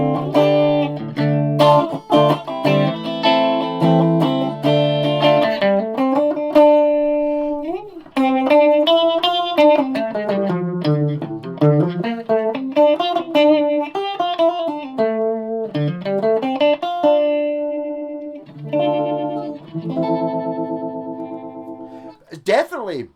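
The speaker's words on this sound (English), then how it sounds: "The distortion pedal's kicking in much quicker on the orange, but not on the Marshall" An Ibanez STT-810 stereo pedal adds distortion to a melodic guitar line played through Orange and Marshall amps, with sustained chorus-like, gliding notes that stay loud and continuous, with brief dips in level.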